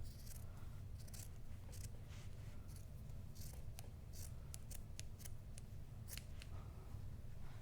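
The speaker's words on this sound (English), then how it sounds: "You're going to start cutting all the way to the other side." Scissors snip through an old T-shirt, cutting strips for yarn, in a series of crisp, close, irregular chops over a quiet room background.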